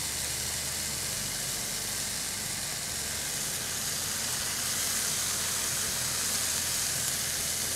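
Marinated chicken sizzles steadily in a non-stick pot, a dense continuous frying hiss that holds close and loud throughout with no pauses.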